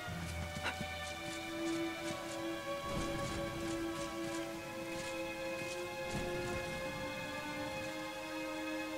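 Steady rain falls in Dragon Quest XI, a dense hiss running the whole time beneath sustained musical tones, with a couple of faint low rumbles.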